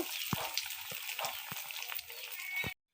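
Malpua pitha batter frying in hot oil, a fine crackling sizzle heard close up with a few soft clinks of a spoon against the pan, before the sound cuts out abruptly at the end.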